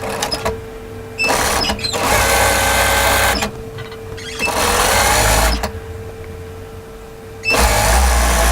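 A sewing machine stitches the hem of a kimono kaftan in three long runs, a loud steady mechanical whir that stops and restarts with short quiet pauses between.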